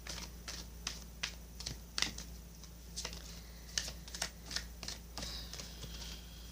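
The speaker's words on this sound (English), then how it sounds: "what I'm going to do now is shuffle for you from the Sage Goddess Gemstone Oracle deck" Crisp riffling and snapping taps of an oracle card deck being shuffled, in uneven bursts with short pauses, close by and fairly quiet.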